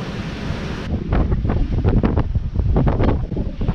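Strong 18 to 20 knot wind buffets the microphone on a sailing boat, with waves and spray slapping the hull in loud, continuous rushing bursts and no voices.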